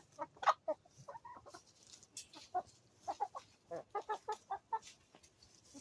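Hens peck at cabbage on grass and give a scattered series of short, soft clucks in irregular bursts, fairly quiet and close, with no talk over them.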